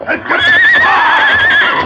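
A horse whinnies loudly and close in a long shrill neigh lasting over a second, during a radio drama chase near quicksand, with faint hoof clatter.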